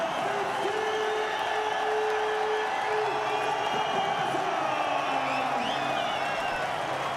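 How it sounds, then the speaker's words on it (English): A cricket stadium crowd roars and cheers continuously for the home captain reaching a T20 international fifty, a dense sustained wall of cheering and whoops with no break. "Not surprising that the crowd is absolutely loving this from their leader."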